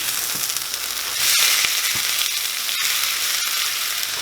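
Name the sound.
stirring diced potatoes frying in a pan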